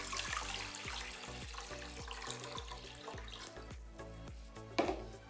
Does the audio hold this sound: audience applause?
no